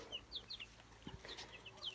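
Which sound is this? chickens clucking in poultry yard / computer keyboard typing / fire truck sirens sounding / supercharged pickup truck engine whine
chickens clucking in poultry yard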